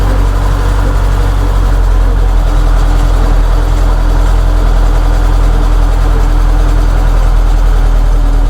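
The engine of a DF 704 tractor runs at a steady, raised speed after a throttle adjustment. It gives a loud, continuous, low mechanical drone with an even hum and no voices.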